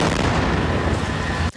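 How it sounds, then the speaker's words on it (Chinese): Dense, loud gunfire from Israeli soldiers during a West Bank raid, with rapid overlapping shots and booming reports running continuously before cutting off abruptly near the end. "以色列士兵卯起来朝对面开枪"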